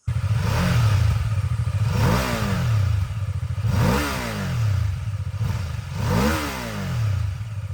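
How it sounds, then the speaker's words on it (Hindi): A BMW F450GS two-cylinder inline motorcycle engine idles with a steady throb, then is revved up several times in rising-and-falling bursts, close and loud. "इसमें है एक 2 cylinder inline engine which sounds really nice."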